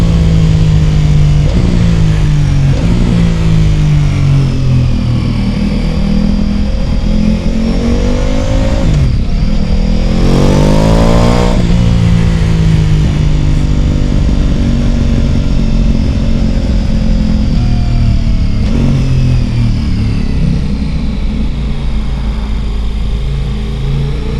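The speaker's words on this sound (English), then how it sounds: "In those lower RPM ranges, man, it just wakes up the bike." A Ducati Pikes Peak motorcycle fitted with a BT Moto stage 1 upgrade revs hard and close, its loud engine climbing and falling through repeated throttle blips, with a sharp rising surge near the middle.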